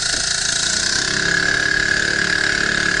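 A 2 hp outboard motor on a rubber boat runs just below half throttle while pulling a sea anchor, giving a steady, close buzzing drone with no change in pace.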